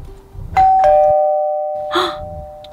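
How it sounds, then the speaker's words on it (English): A two-tone doorbell chime rings out clearly, the second tone lingering and slowly fading, followed by a brief rustling bump. "Did we get a doorbell installed?"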